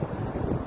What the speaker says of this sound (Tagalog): Parang malakas ang hangin.